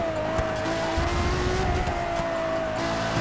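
A race car's engine screams steadily at high revs in Forza 6 with faint tire noise, a continuous sustained whine holding pitch throughout with no talk over it.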